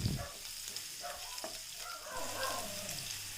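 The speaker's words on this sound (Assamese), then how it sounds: "কেৰাহীত থাকি যোৱা তেলতে এয়া দি দিছোঁ মিহিকৈ কাটি লোৱা নহৰুখিনি আৰু আদাখিনি।" Finely chopped garlic and ginger fry in leftover oil in a wok, giving a soft, steady sizzle with light stirring scrapes, faint and close, no talking.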